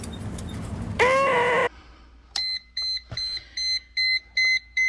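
A Mercedes W163 instrument cluster warning chime beeps in a regular rhythm of short, clear electronic tones, following a brief louder tone and some clunks, with no voices.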